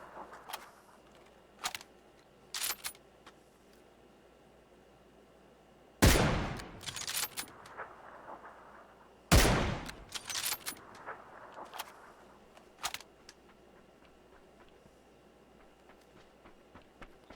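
Sporadic gunfire in the PUBG video game, two loud close shots with echoing tails among scattered fainter distant pops and clicks over a quiet background.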